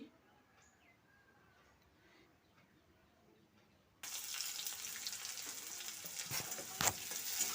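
Chopped onion and garlic fry lightly in a pan, a soft steady sizzle that starts abruptly partway through after a quiet stretch, with faint bird calls in the background.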